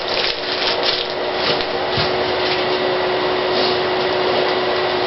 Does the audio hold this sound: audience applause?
no